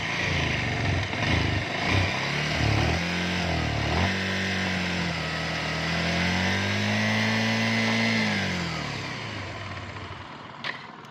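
A Bajaj Avenger 150cc motorcycle engine idling after a choke start, a close, steady thrum whose revs rise and dip in slow swells before settling and tapering off.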